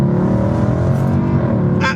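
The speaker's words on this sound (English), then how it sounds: "Listen to that downshift, did you hear that downshift? Pure V8 engine tone." A loud, close Mercedes C63 V8 engine revving through a downshift, deep and throaty with a slight raspiness and a rising and falling drone that fills the whole moment.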